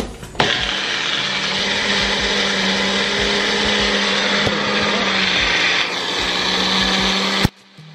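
A struggling blender grinds banana bread mixture in a steady, loud whine that runs unbroken for about seven seconds and then cuts off abruptly.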